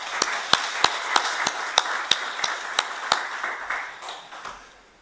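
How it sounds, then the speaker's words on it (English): A single person clapping at a congress, about a dozen evenly spaced, sharp claps, close and crisp, slowing and fading at the end. "I really would like to start with a big round of applause for them"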